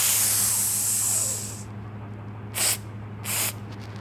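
An aerosol spray can hisses in one continuous blast lasting over a second, then fires two short separate bursts after a pause, close and with no voices.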